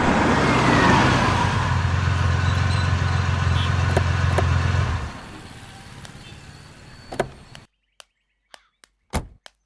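A car idles and rolls to a stop, its engine hum fading out after about five seconds, followed by a few sharp thunks like doors shutting in a quiet space.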